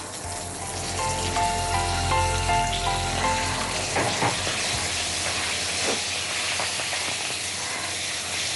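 Dried red chillies and curry leaves sizzle in hot oil while tempering, a dense continuous hiss with crackling pops that stays steady throughout, close up.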